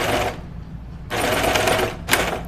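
A sewing machine runs in two bursts of stitching through knit fabric for a Lucida dress, the motor whirring steadily for about a second, pausing, then starting again briefly, close and fairly loud.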